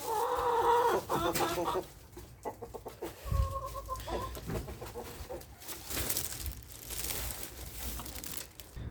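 Chickens being fed lettuce cluck in a series of close, fairly loud calls, with crinkling rustles and brief bursts of movement between them.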